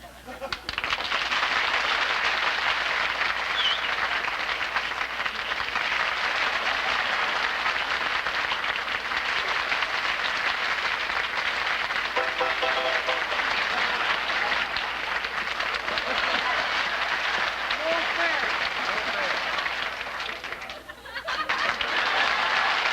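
Sustained, dense applause from a large studio audience on The Jack Benny Program, steady and loud for about twenty seconds before briefly dipping and swelling again.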